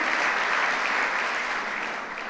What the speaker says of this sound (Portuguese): Dá uma salva de palmas aí, vamos pentecostal aí, em nome de Jesus